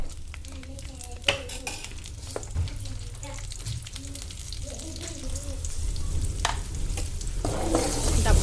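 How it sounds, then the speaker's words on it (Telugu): Curry fries on a stove in a home kitchen, a close sizzle broken by the clatter of a spoon against the pan. The frying grows louder toward the end, and a voice is faintly heard. "స్టవ్ ఆన్ చేసి మళ్ళీ కర్రీ స్టార్ట్ చేసిన."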